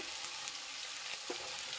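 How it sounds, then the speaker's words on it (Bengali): Onions frying in hot oil give a constant soft sizzle with a few faint crackles, heard close and quiet. "পেঁয়াজ ভাজা হয়ে গেছে"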